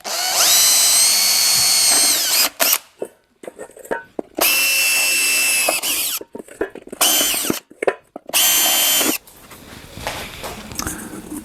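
A power drill bores 3.25 mm holes in a salad bowl for hubcaps, with three loud whining bursts of a few seconds each separated by quiet pauses and handling clatter, then a fainter tail.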